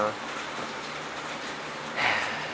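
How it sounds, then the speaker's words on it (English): Steady rain falls outside a shop where a 1969 Gravely 432 tractor is being worked on, a continuous hiss of drops throughout with a brief louder patter near the end. "obviously you guys can hear it raining in the background"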